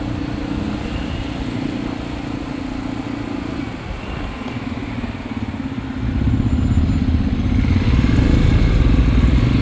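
Motorcycle engine droning steadily throughout a ride through the streets of Xela, Guatemala, with constant low rumble and road noise that swells louder in the final seconds.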